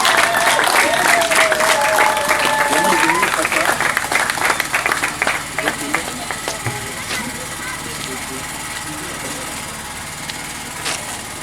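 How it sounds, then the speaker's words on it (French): A crowd at a hospice inauguration in Kisangala breaks into clapping and cheering, loud at first and then thinning into scattered claps, with whistle-like tones and voices mixed in. "Acclame très fort pour ces mots du président David"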